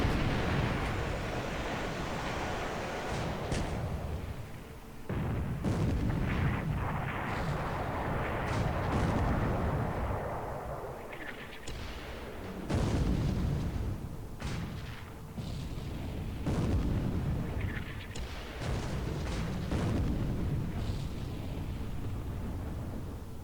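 Battleship main batteries fire repeatedly in the naval war game War in the Pacific, heavy booming blasts rolling into long rumbling echoes, spaced irregularly over a continuous low roar, loud and with no voices.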